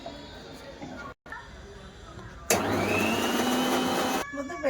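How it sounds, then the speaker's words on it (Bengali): A kitchen grinder whirs loudly as it grinds garlic, ginger, green chilli and coriander leaves with a little water into paste, a steady motor roar starting abruptly after quieter background noise and cutting off near the end. "রসুন আদা কাঁচা লঙ্কা ধনে পাতা একটু জল দিয়ে আমি বেটে নিয়ে এসবো"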